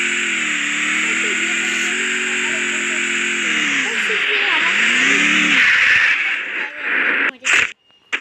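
A video game car engine drones steadily in Free Fire, its pitch rising and falling as the vehicle speeds along, with bursts of game effects near the end and a voice talking over it.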